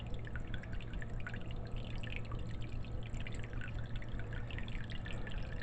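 Water drains through a DIY indoor pond with a sump pump, a continuous trickle with many small drips and splashes, fairly soft and steady under a low hum, with no talking.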